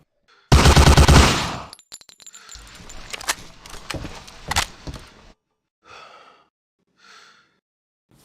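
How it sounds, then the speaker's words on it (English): Gunfire erupts while running in the video game Hidden & Dangerous 2: a loud, rapid automatic burst, then several sharp separate shots and fainter clatter trailing into near silence. "So if you need to fire while running, make sure the target is close enough, like in these examples of attacking or storming into rooms."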